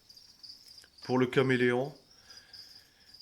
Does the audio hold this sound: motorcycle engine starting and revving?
no